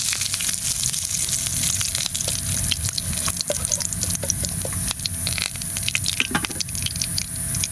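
Leaves tossed into hot oil for Kolkata-style egg dum biryani in a clay pot, a continuous crackling sizzle with scattered sharp pops and spatters throughout.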